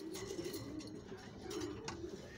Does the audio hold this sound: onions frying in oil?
no